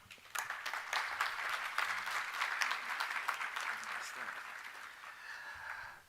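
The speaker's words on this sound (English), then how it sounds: "Let's give another round of applause to our Minister of Education" Conference audience at a Caribbean Maritime University industry conference applauds for the Minister of Education, a steady round of clapping from a hall crowd that rises sharply, holds evenly for several seconds, then thins out.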